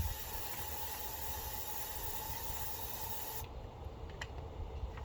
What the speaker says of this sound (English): I'm going to switch to the mist setting. And then I'm going to just mist this good.